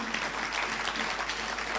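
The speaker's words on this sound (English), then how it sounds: "Another round of applause for Arnold Bertram" Applause rings out for a speaker at a Christian diaspora conference, a brief, even spell of many hands clapping at a moderate, fairly distant level over a low steady hum.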